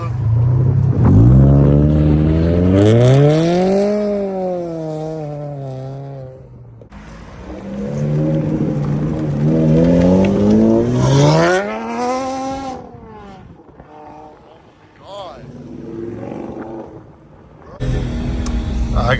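Loud car engines rev hard at a Memphis car meet, rising and falling in long sweeping pulls with a few bursts, while voices shout in the crowd.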